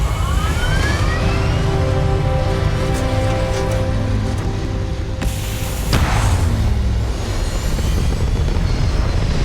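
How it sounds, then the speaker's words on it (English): Spaceship thrusters firing in the video game Starfield: a loud, steady roaring engine drone with mechanical whine and tonal hum, swelling into a stronger blast partway through, no talk. "Thrusters firing."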